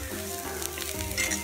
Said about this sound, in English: Yes, the sesame seeds are splattering.